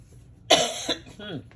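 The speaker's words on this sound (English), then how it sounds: "Pardon me for that cough." A single sharp cough up close, followed by a softer throaty catch, with a brief voiced sound after it.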